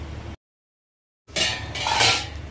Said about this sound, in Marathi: याच्यावरती झाकण झाकून ठेवते